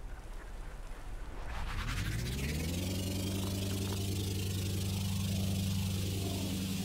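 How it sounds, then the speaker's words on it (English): Three aircraft engines power a boat in the game Stormworks, spooling up from a low rumble into a steady, loud drone with layered tonal hum that holds evenly to the end. "It's got 3 aircraft engines in it."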